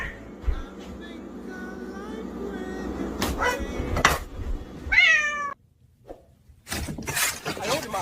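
A cat meows in several drawn-out, rising calls near a cake being sliced in a kitchen, with a person talking and a short knock in between.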